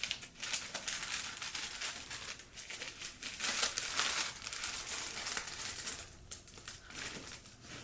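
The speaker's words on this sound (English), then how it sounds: "when you open it up, here is the beautiful like tissue paper" Tissue paper crinkles and rustles up close as a Chanel 23P bag is unboxed, a busy run of crackling handling sounds with no talking.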